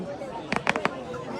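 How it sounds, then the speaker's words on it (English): Fireworks go off at a bonfire night display, a quick cluster of four or five small sharp pops and cracks heard at a distance over a steady outdoor murmur of voices and crowd noise. "It's the wannabe fireworks."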